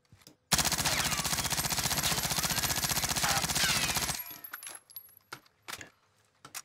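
A PPSh-41 submachine gun in Warzone fires one sustained, rapid full-auto burst of about four seconds during a recoil test, loud and close. It then cuts off, leaving a few scattered faint clinks and taps.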